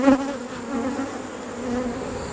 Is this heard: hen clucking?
no